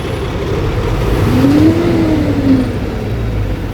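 A Cummins engine idles steadily after being restarted, a loud continuous low rumble with a brief rising and falling whine in the middle, no voices.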